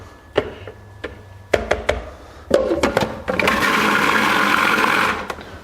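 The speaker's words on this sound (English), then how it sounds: "one more stir inside of the food processor" A food processor whirs steadily for a couple of seconds after a series of sharp taps and knocks from the lid and bowl being handled, the motor loud and close.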